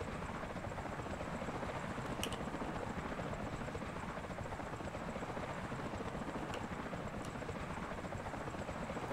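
Helicopter flying in the video game Maroon Berets: 2030, a continuous dense rotor and engine roar, steady and close throughout with a few faint clicks.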